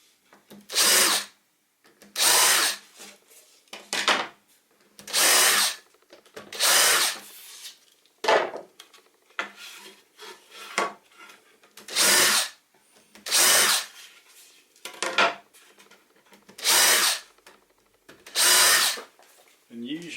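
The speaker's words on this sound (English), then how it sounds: "I'll countersink these as well." A power drill countersinks screw holes in a scrap-wood toolbox with about a dozen short, loud whirring bursts, each a second or so long and separated by brief pauses, close up with faint voices in between.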